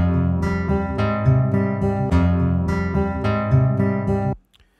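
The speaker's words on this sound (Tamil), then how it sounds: "ஸோ இப்போ நம்மக்கிட்ட ஒரு அக்கோஸ்டிக் கிட்டார் லூப் இருக்குது" A looped acoustic guitar phrase played back in mono through Logic Pro, strummed chords repeating in a steady rhythm, close and clear, ending abruptly in silence.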